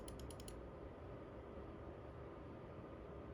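An undervolted gaming PC with a Ryzen 9 3900X and RTX 3070 runs with a steady, even whoosh of fan noise, opening with a brief burst of fast clicking ticks.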